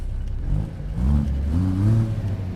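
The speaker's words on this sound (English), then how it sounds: "Had to rev that one last time" A truck engine in American Truck Simulator revs up twice, the pitch climbing in two smooth, loud surges over a steady low rumble, with no talking.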